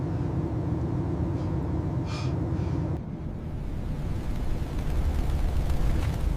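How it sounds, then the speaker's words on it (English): A bird strike on a jet's wing: a dull thud and brief whoosh cut through a steady, loud cabin roar, followed by continued rumbling engine drone. "This is what a bird strike sounds like from the cabin."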